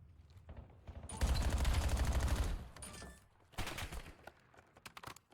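Bursts of rapid automatic gunfire and scattered shots from a Call of Duty: Black Ops 7 ranked match gunfight, a dense heavy volley followed by shorter, sharper exchanges, with no talking.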